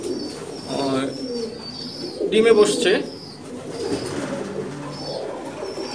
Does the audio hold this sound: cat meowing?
no